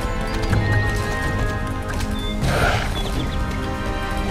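Horse hooves clip-clopping in a steady galloping rhythm in the video game Star Stable, with a brief whinny partway through over continuous game music.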